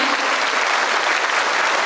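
A theatre audience applauds at a Korean martyrs' commemoration cantata, a dense, steady wash of many hands clapping together, close and full for the whole stretch with no break.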